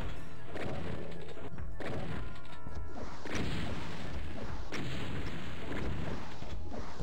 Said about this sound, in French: Ces explosions ont beaucoup trop de portée.